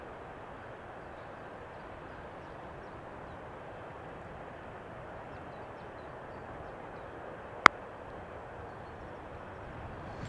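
A heavily loaded Boeing 747 cargo plane takes off from a runway at Amsterdam Schiphol, a steady broadband engine roar held at an even level throughout, with one sharp click partway through.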